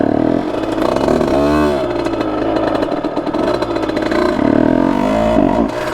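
A Bidalot 50WR 50cc motorcycle engine revs loudly and raggedly up close, the pitch rising and falling in uneven bursts before it stalls.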